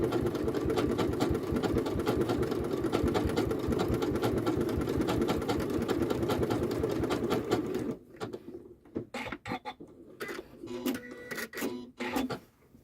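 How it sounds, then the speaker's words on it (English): A Janome sewing machine running a triple stitch on a fabric postcard, a loud, steady rapid needle chatter for about eight seconds, then stopping and restarting in short bursts. "I've just used triple stitch on that beach hut and then a little satin stitch across the top there for the roof"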